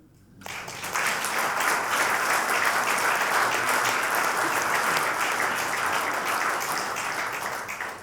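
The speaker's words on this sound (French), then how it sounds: "je vous propose d'applaudir la naissance" Sustained applause from a large congregation at a Catholic Mass, starting abruptly and holding steady at full volume for several seconds before tapering slightly at the end.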